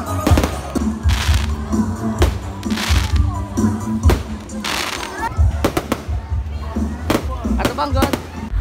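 Fireworks bursting in rapid, irregular bangs and crackles, some near and sharp, others deeper thumps, at a festive outdoor event in Kinoguitan, Misamis Oriental, with crowd voices mixed in.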